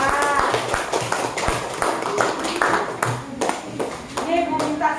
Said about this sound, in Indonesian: Udah, tepuk tangan.